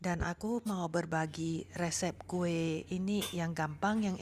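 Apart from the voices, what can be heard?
No everyday noises stand out.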